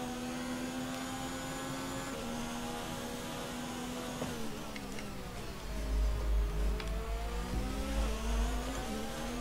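Racing car engine in the F1 2019 video game, a steady high-pitched whine with harmonics that shift as revs change, joined by a deep rumble in the second half that grows slightly louder.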